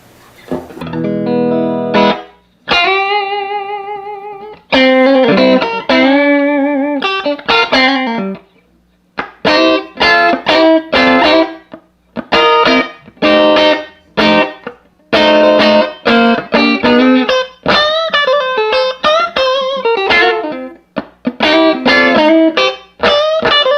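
Clean electric guitar phrases on the middle pickup, single notes and chords ringing dry through a 1963 Magnatone 480 tube amp, played alone with short pauses between licks.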